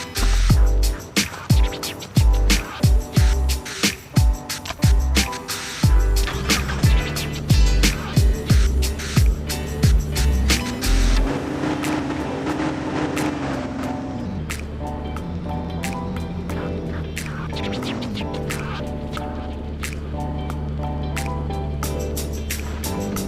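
A car cold-starts in the Car Simulator 2 video game: about ten seconds of rapid, rhythmic cranking bursts, then the engine catches and settles into a steady, loud idle with a brief rise in revs.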